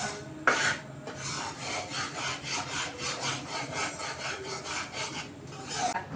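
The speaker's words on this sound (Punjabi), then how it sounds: "ਤੇ ਕੜਛੀ ਨੂੰ ਚਲਾਈ ਜਾਣਾ ਰੁਕਣਾ ਨਹੀਂ ਕਿਉਂਕਿ ਬੇਸਨ ਥੋੜਾ ਜਲਦੀ ਲੱਗ ਜਾਂਦਾ ਹੈ" A ladle keeps stirring gram flour (besan) roasting in a pan, making a steady rasping scrape with rhythmic strokes throughout, close and fairly loud with no talk.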